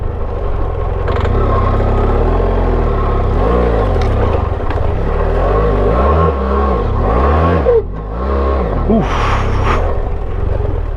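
A motorcycle on a dirt slope revs hard and repeatedly, its loud engine swooping up and down in pitch as the throttle works while climbing, with a brief dip before the revs surge again.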